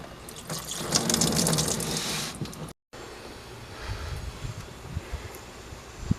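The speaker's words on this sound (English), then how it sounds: "get ready for some coolant to come out." Coolant gushing and splashing out of the radiator of a 2000 Dodge Ram 1500 van after the drain is opened, a close, steady liquid pour that briefly cuts out and then continues as a quieter trickle.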